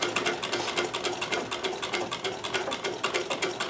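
A Necchi BU Nova sewing machine stitching a shirt cuff, running steadily and loud up close with a fast, even mechanical needle clatter throughout and no talking.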